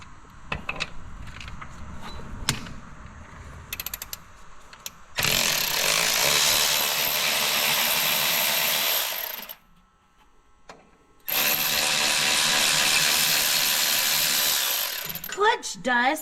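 Power tool, an impact gun or drill, backing bolts completely out during a gear reduction clutch kit install on a 2020 Polaris RZR Pro XP; two long, loud sustained whirring bursts follow scattered clanks and handling noises.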